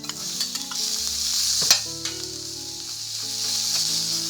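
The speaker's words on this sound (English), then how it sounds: "So we would like to fry this on medium heat." Onion frying in a pan over medium heat for a kimchi udon stir fry, a steady close sizzle with occasional scraping stirs and a sharp clack partway through, no talking.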